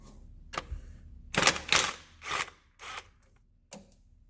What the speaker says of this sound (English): Don't drop the nut like I just did.